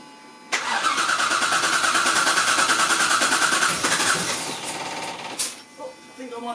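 Jaguar AJ30 engine turning over and catching after sitting unused, a loud continuous whirring crank and run lasting several seconds before easing off, with a couple of sharp clanks near the end.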